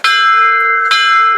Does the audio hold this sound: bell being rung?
yes